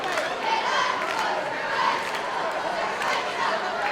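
A crowd in the stands at a high school boys' basketball game in a gym, a steady murmur of chatter and noise heard from a distance at moderate level, with scattered shouts.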